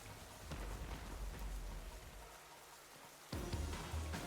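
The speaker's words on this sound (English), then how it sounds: "Rain still goes for one more turn." Rain weather effect in the Pokémon Scarlet battle: a steady rain-like wash of noise with a low rumble, briefly dipping before surging louder again near the end, with no talk.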